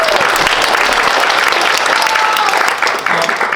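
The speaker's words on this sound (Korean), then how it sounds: "박수 한번 쳐주세요." An audience at a lecture on the semiconductor industry claps together in a dense, sustained burst of applause, loud and even throughout with a slight dip near the end.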